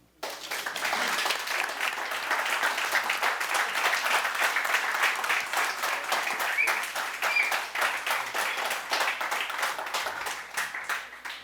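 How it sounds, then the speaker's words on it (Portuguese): A seminar audience claps steadily for over ten seconds after a talk ends. The clapping is dense and even, and individual claps can be picked out through the crowd sound. "Palmas, cumprimento."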